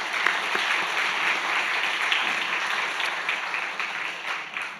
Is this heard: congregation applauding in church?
yes